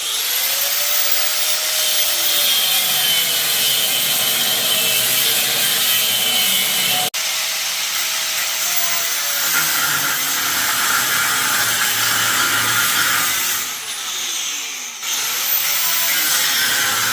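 Steel being cut for a trailer BBQ smoker build, a continuous harsh grinding and sawing rasp close by that holds steady with brief pauses, loud and alone.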